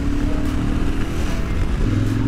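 Motorcycle engine revving hard and pulling away at the start of a 200 km ride, a loud, continuous low rumble that stays close with no voices.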